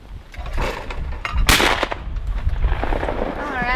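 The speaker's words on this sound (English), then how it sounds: "Now that we've done the shotgun shooting" A shotgun fires at clay targets thrown from a trap on an outdoor range, one loud nearby blast rising out of wind noise and faint talk, with a rumbling tail after it.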